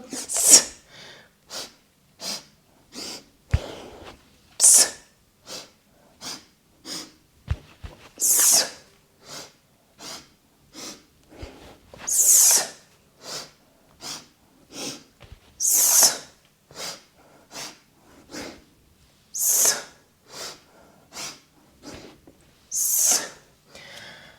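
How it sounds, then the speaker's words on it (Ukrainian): Rapid forceful breaths from a yoga breathing exercise, a long run of short sharp sniffing inhalations and exhalations in quick regular bursts, with occasional louder huffs, close and clear with no talking. "Вдих, вдих, вдих, пружинка."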